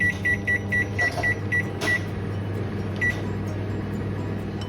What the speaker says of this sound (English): Put it in the micro.